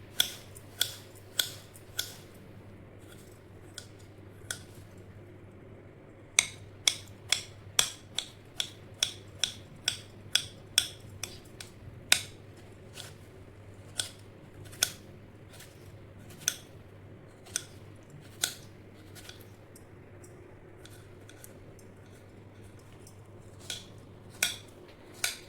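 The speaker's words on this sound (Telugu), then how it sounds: "చాలా సన్నగా సన్నగా కట్ చేసుకోవాలి." Finely cutting ingredients for Ugadi pachadi: crisp, sharp chopping clicks, sometimes in quick runs and sometimes spaced out, fairly close but soft against a quiet kitchen background.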